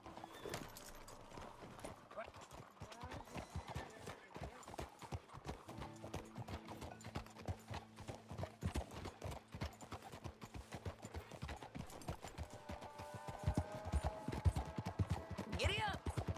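Horse hooves clip-clop at a steady gallop through the Red Dead Redemption 2 video game, a continuous rhythmic beat with an occasional whinny, layered under game music and speech.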